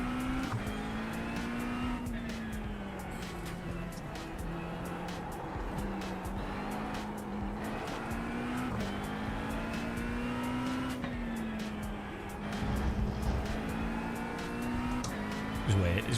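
A Porsche race car in a racing video game slides with squealing tyres over a steady, droning engine note that holds loud and close throughout, with no one talking.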